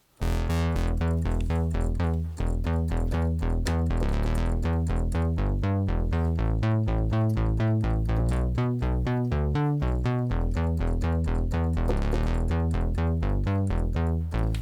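Simple analog synth bassline pulsing in a steady repeating rhythm, punchy and loud throughout with bright plucked attacks on each note, playing alone without any talking.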